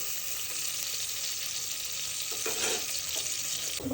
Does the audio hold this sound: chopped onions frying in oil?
yes